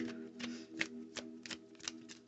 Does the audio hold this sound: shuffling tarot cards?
yes